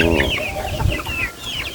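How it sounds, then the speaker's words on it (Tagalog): Farm chickens cluck and squawk close by at feeding time in a busy, overlapping chorus, with a rooster-like call rising among the hungry flock. "mga manok ang ating pagkakainin ngayon dahil gutom na gutom sila"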